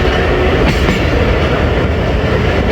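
An HBU20 locomotive passes close by Gujar Khan railway station, a loud, steady rumble and rattle of wheels on rails that fills the whole moment with no talk.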